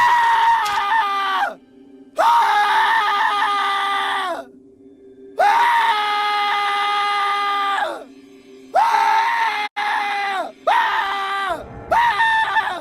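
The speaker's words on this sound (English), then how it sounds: "That script said 5 back-to-back screams" Five long, shrill screams in a horror story, each a sustained high wail separated by short gaps, loud and close with no talking.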